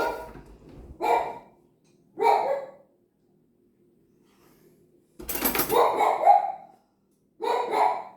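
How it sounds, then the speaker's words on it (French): A pet dog named Naya barking indoors, four or five loud close barks in separate bursts with short silences between, one burst a quick double bark. "C'est mon chien qui aboie."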